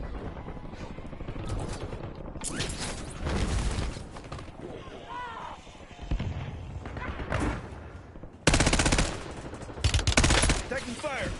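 Bursts of automatic gunfire and thuds from the video game Call of Duty fire in loud, dense volleys with short lulls, accompanied by a game voice speaking briefly.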